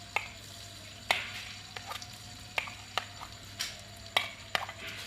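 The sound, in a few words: crushed ginger and garlic frying in hot ghee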